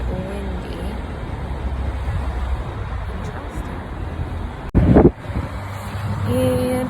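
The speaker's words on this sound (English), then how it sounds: "It's breezy out here, humid and a little bit windy." Steady wind buffeting outdoors, a broad low rumble across the whole stretch, with a brief louder gust partway through.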